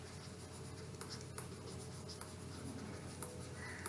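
A pen scratches out a maths solution on paper in short, faint strokes and ticks over a steady low room hum.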